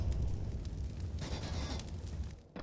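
A grenade bursts in Counter-Strike on the Train map during a tournament match, a deep, muffled boom rolling for about half a second over steady game ambience.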